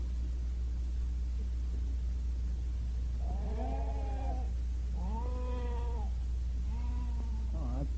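Lamb bleats three or four times in a spring lamb sale setting, wavering cries rising over a constant low hum and steady background noise, fairly near and moderately loud.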